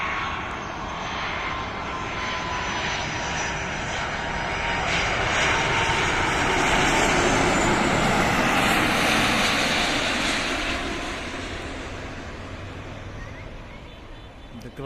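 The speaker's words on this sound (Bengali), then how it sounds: "A330 মডেলের বিশাল বড় একটি বিমান, বেসরকারি বিমান সংস্থা ইউএস বাংলা এয়ারলাইন্সের।" A US-Bangla Airlines Airbus A330 airliner comes in to land, its loud jet engine roar swelling to a peak overhead at mid-approach and then fading slightly, heard alone at close range.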